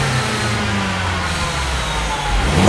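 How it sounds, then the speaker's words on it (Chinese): BMW 116i engine revving from 1000 to 3000 rpm after an intake-system cleaning and coating treatment, a loud, full, steady drone from close by with a slight rise toward the end. "而且可以听到它那个进气排气声浪变比较饱满"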